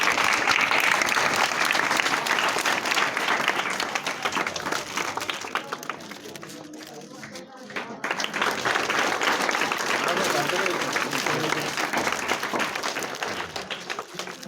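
Children at a school event break into loud, sustained applause, a thick clatter of many small hands that dips briefly midway and then swells again, with voices mixed in.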